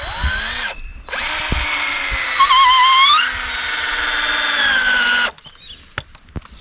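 Power drill driving long screws into the wall framing of an off-grid cabin: two loud, sustained whirring bursts with rising pitch as the screws bite, separated by a brief pause, then quiet handling noises.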